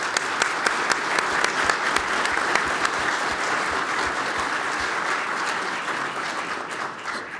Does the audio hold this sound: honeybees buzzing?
no